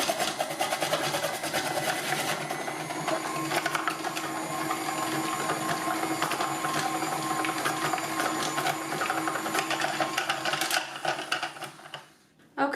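KitchenAid RVSA slicer/shredder attachment driven by a stand mixer, a continuous busy mechanical whir with rapid rattling and clattering as food is fed through, steady for most of the clip before cutting off near the end.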